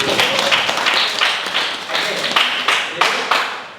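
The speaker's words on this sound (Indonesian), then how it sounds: "Tepuk tangan dulu." A classroom audience at a vocational high school in Bandung claps in a loud, close burst of quick irregular hand claps that rise and fall in waves before fading.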